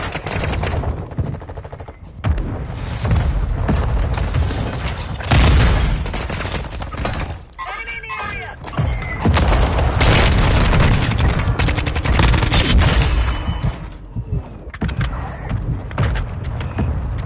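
Mortar strike explosions and heavy gunfire in the Call of Duty Warzone video game, loud and dense, with repeated booms and rapid bursts rolling almost continuously across the whole stretch, with a brief lull midway.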